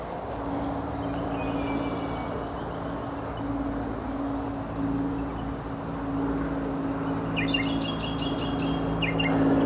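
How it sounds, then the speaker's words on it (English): Birds chirp intermittently outdoors in nature beside the water while fishing, with short tweets set against a steady low hum of distant traffic and an aircraft overhead. "being out in nature, listening to all the birds"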